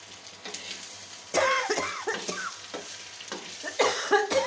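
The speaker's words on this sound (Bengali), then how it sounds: "আলু সিদ্ধ করে আলু ভাজে নেওয়া হয়েছে" Boiled potatoes frying in a pan, with a low sizzle and scraping stir strokes, broken by bursts of sound that could be coughing or a voice nearby.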